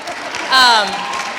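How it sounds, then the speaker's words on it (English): Audience applause at a panel with mothers after a screening, rising suddenly partway through the clip and holding steady, with a voice whooping or cheering over the clapping. "Grandma, clap it up"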